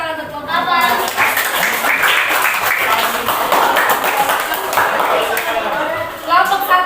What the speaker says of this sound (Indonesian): Oke, tepuk tangan untuk kelompok 4.